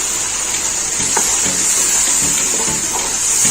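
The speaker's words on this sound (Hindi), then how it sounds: "बर्तन को अच्छे से साफ करेंगे।" Water runs steadily from a tap while a cooking pot is washed after making achari chicken, a continuous hiss and splash with a few soft knocks and clinks of the pot throughout.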